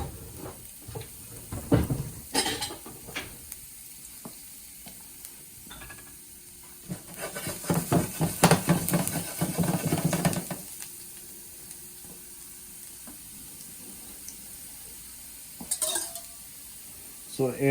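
Chopped garlic frying in olive oil in a pan, with a steady close sizzle, bursts of louder crackling, and scattered clinks and scrapes of a utensil stirring against the pan.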